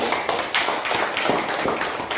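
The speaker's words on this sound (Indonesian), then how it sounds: "Tepuk tangan." A class of students clapping hands together in a classroom, a dense, sustained patter of many overlapping claps at steady loudness with no talk.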